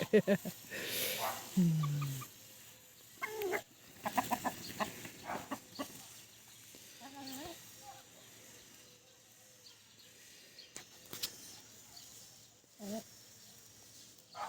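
Chickens cluck and squawk in short bursts near by, with a loud flurry early on, quieter clucks scattered after, and a bit of faint background noise.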